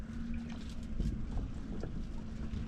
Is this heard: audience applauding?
no